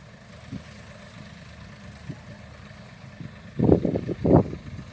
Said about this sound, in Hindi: अब ये वापस आया है ट्रैक्टर